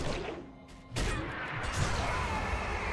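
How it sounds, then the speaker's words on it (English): A trinket proc effect goes off in World of Warcraft Classic, a sudden loud crash-like burst about a second in that trails off into a sustained whooshing shimmer. "that was a trinket proc"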